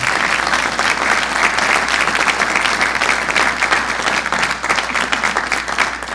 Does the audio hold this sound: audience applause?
yes